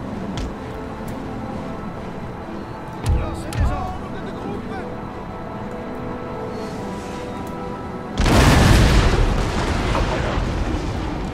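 Cannon fire in a Napoleon: Total War battle, with a couple of dull booms early and then a heavy roaring artillery barrage near the end, over steady battlefield game noise.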